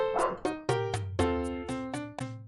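Dog barking in the Tex Murphy: Under a Killing Moon computer game: about eight sharp, evenly spaced barks, close and loud, with no talk.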